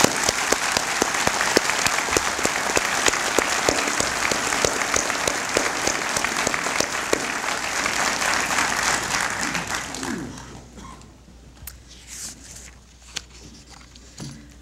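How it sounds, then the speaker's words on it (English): Audience applause at a 2011 dental school commencement in a large hall, sustained dense clapping for about ten seconds that then fades to scattered claps and room noise. "I ask you to join me in applause to acknowledge their hard work and their many accomplishments"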